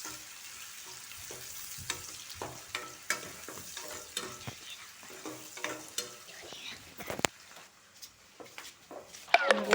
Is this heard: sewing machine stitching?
no